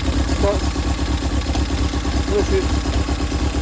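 A Daihatsu Hijet 1.3 engine runs just after a timing belt change, with a suspected blown head gasket and misfire. It gives a steady, close, loud rumbling idle with an uneven pulsing clatter, and a voice speaks over it.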